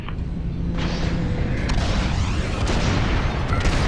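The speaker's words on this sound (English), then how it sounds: "It's bombs away." Bomb explosions in the space combat game Star Wars Squadrons, a continuous loud rumble of blasts with a few sharper bursts, dense and sustained throughout with no pauses.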